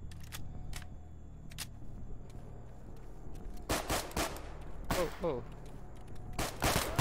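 Gunfire in Stalker Gamma: several sharp, close shots and short bursts ring out in clusters over a quiet background, with a man's brief startled exclamation in between.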